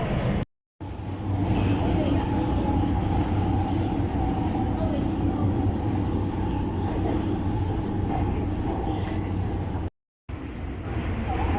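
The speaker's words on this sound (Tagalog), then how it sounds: "Ito na ang tren." Steady low rumble of a train running continuously, broken by two brief gaps of silence, with voices faintly present in the background.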